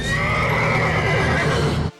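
A horse lets out a loud, close whinny that rings for nearly two seconds and then cuts off abruptly.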